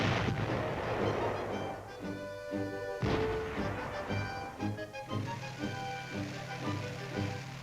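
Self-propelled artillery weapons firing in a military setting, heavy booming blasts and crashing reports over a continuous loud rumble, with a pronounced impact near the middle.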